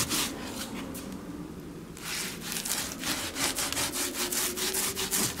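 Decorative plaster worked into a crocodile-leather texture and coated with varnish, rubbed over with a sponge: steady repeated scrubbing strokes, close and fairly loud, with a brief pause before the rubbing picks up again.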